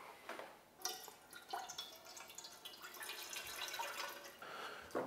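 Water splashes and trickles into a Ninja Foodi Max multi-cooker pot during rib preparation, a light, uneven pour of drips and small splashes, close but quiet, with no talking.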